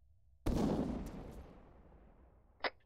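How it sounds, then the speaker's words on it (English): A single close grenade explosion in Arma 3 inside a building hallway: a sudden heavy blast that decays over about two seconds, followed by a short sharp crack near the end. "someone grenaded me"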